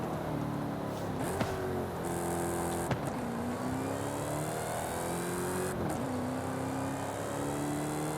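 Engine whine from a Dodge Hellcat Redeye in Forza Horizon 5, a steady supercharged drone that rises and falls with gear shifts, with a couple of sharp upward sweeps, continuous and fairly even in level.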